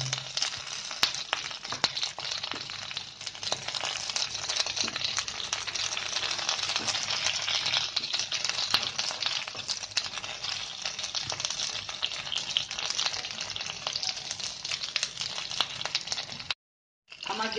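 Brinjal frying in a pan with green chilli, a steady dense sizzle and crackle that stays loud and even throughout, with a brief drop-out near the end and no talk.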